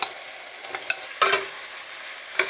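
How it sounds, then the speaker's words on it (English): Vegan wrap filling sizzles faintly in a frying pan while a utensil stirs it, giving a few scraping strokes and light clatters over a soft, steady frying hiss. "and then add it to the frying pan."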